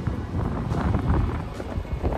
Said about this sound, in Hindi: एकदम चिलिंग हवा चल रही है इस समय